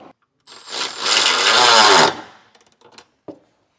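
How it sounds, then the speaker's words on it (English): A ratcheting 17 mm socket tightens the lower trailer hitch bolts on a 2019 Hyundai Santa Fe, giving a sustained mechanical whir for about a second and a half, followed by several short, sharp clicks and taps, with no talking. "we'll use a 17 millimeter socket to tighten our lower bolts"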